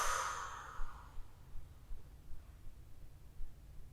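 A forced exhalation during yoga breathing comes as a soft, breathy rush at the start that fades within a second, followed by quiet room tone with faint low rustles.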